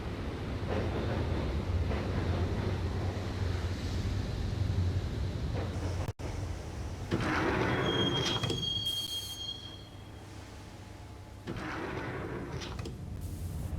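A subway train rides through the tunnels in the Max Payne video game, a continuous loud rumble of wheels on rails with drawn-out metallic squeals and screeches rising and fading over it, no voices.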